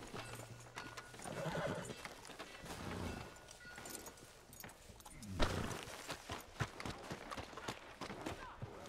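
Horse in Red Dead Redemption 2 gives a whinny, then its hooves clip-clop at a walk, moderately loud over steady game ambience with light voice activity in the background.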